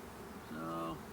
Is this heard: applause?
no